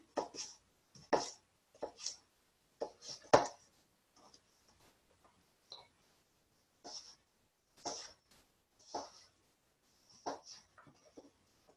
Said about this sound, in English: So just cutting some strips here